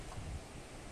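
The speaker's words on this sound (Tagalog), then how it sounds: "Hangin lang, ang lakas ng hangin." Strong wind from a dry typhoon with no rain, a steady broadband rush and buffeting on the microphone over one second, with no voices.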